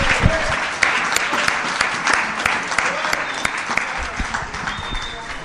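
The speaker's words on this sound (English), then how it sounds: "So let's all give them a round of applause." Loud, steady applause from a workshop crowd in New York, many hands clapping continuously throughout.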